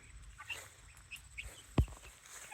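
Ameraucana chickens in a coop built from an old shed make soft, scattered clucks and shuffling. One short, louder cluck stands out near the end against a quiet background.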